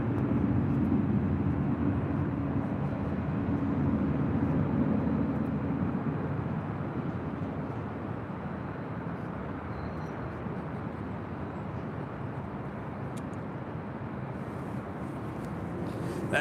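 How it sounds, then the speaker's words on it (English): A WestJet Boeing 737-800 airliner at LAX gives off a low, steady, distant jet rumble that slowly fades, with no nearby talking. "That is WestJet Flight 1515 heading back to Calgary on the 737-800."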